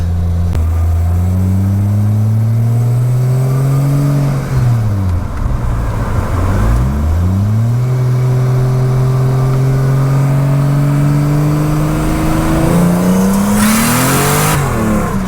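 A 2JZ-swapped Mercedes W124 sedan revs hard under turbo boost, engine pitch climbing and dropping through several loud, close pulls with a sharp burst near the end.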